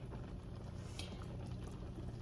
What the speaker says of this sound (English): The soup already is boiling.